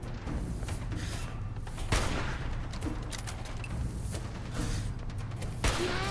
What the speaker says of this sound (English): Oh, there was a grenade there.